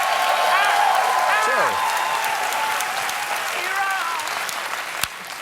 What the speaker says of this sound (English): Do you realize how Lester Holt is angry with you right now for clapping?